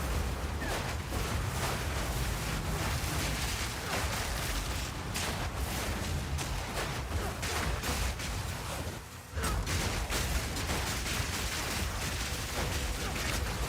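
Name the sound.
explosion of twisters in video game Path of Exile 2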